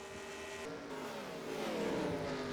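Several race cars drone together in the NR2003 NASCAR racing video game during the ShopRite Series Pop Secret 400. The engines hum steadily and rise slightly in pitch as the pack runs close, with no voices over them.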